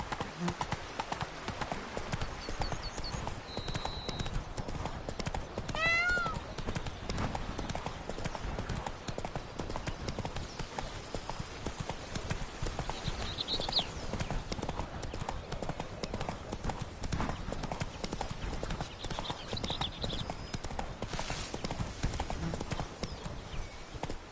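Roach the horse gallops steadily in a video game, close, rapid hoofbeats running continuously throughout with a brief whistling chirp and some faint speech mixed in.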